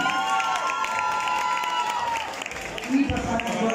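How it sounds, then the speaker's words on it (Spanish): Audience at a drag contest in Ensenada applauds and cheers for performer Emma, a steady wash of clapping and crowd noise filling the room, with voices shouting over it and a short vocal burst near the end. "fuerte el aplauso para la Emma"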